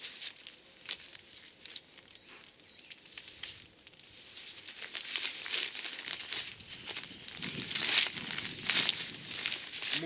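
Crinkly nylon rustling and crackling as the top flap of a North Face Terra 65 backpack is handled and lifted off, close and moderately loud, growing busier toward the end.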